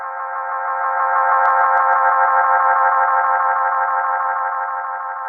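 A Boss Space Echo RE-202 tape echo sustains a dense, warbling tone of self-repeating echoes that swells and holds, with faint flickering repeats, heard alone.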